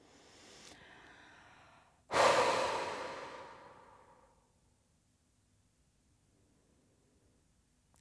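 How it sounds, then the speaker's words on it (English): A long, slow exhale during a Christian yoga flow, a breathy rush that starts strongly and fades out over a couple of seconds, close and alone, followed by near silence. "So you can exhale."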